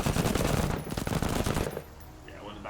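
Rapid automatic gunfire blasts in the tactical game MENACE as a squad opens fire on an enemy walker, dense bursts that cut off abruptly, leaving a quieter rumble of battle ambience.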